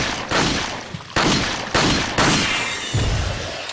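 Four heavy gunshots in Resident Evil 4, each a loud sharp blast with a booming tail, spaced roughly half a second apart, close and without speech.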